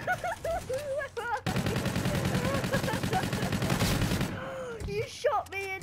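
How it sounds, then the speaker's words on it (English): Sustained rapid automatic fire from Call of Duty Infinite Warfare rattles loudly for about three seconds, with a voice speaking before and after the burst. "You shot me in midair!"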